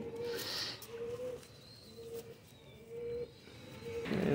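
Pet pigeons or doves coo in a repeated, evenly spaced series of soft, low calls, fairly close, with faint chirps and light background rustle and no talking.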